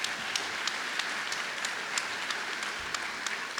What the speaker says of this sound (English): let's have a round of applause for all the people sitting behind you that helped you make it this far